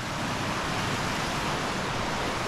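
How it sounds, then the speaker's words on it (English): Rushing creek water beside a campsite in Great Basin National Park, a steady, broadband rushing hiss at moderate level with no voices. "I thought it was going to be a creek, but it's a little bit more than that."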